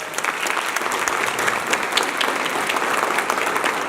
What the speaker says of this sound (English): Let's give Congresswoman, the mayor, all of our elected officials a round of applause.